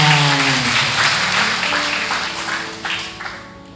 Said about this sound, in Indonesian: Wih, tepuk tangan buat Tuhan.